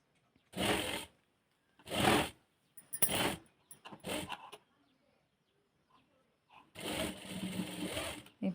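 Domestic sewing machine running a straight stitch along a blouse neckline hem, in several short bursts of about a second each with pauses between, then a longer steady run at the end.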